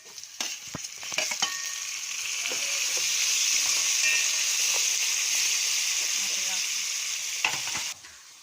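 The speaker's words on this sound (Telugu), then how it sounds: "తర్వాత ఆనియన్స్ క్యారెట్ ఫ్రై అయిన తర్వాత 1 టమాటా కట్ చేసుకున్నా." Onions, carrots and tomato fry in a pan, opening with a few clinks of stirring before a strong, steady sizzle swells and holds, then cuts off near the end.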